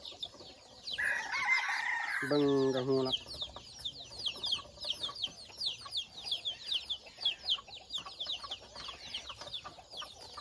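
A red junglefowl about three months old gives one close, loud crow followed by clucking, set against a dense, steady chorus of insects or birds in the forest, with someone speaking briefly.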